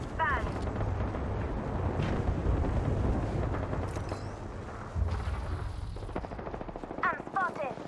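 Video game gunfire, loud continuous machine-gun bursts and heavy booms filling the scene, with voices talking over the shooting toward the end.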